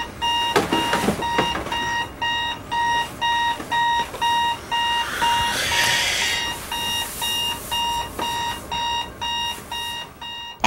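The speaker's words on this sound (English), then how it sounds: "There's your clock ringing." A loud alarm clock beeps rapidly and continuously in regular pulses, with some clattering and rustling noises mixed in.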